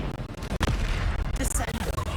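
In Hogwarts Legacy, a Bombarda spell sets off a booming explosion amid the continuous din of spell combat, with no clear pause in the noise.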